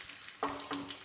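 Raisins drop into hot oil in a pan and set off a brief, soft crackling sizzle with a couple of quick spatters, close and quiet.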